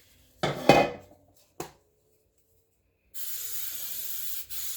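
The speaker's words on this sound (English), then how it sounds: "I will be spraying the pan" Cooking spray hisses onto a quiche pan in a steady close burst near the end, after a couple of clinks of cookware.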